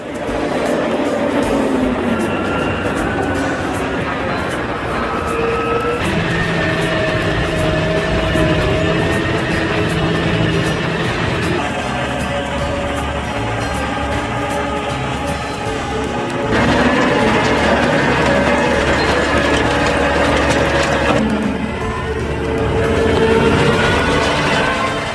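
A Kuhn SPV 15.1 DL self-propelled TMR mixer runs at a dairy farm, cutting, mixing and feeding silage, with a loud, steady engine drone and mechanical whir that swells in places but continues without pause.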